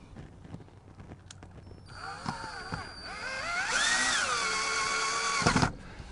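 A power drill drives screws into a sliding door rail, rising to a steady whining spin with pitch shifts for a few seconds before stopping abruptly, close and loud, with light tapping beforehand.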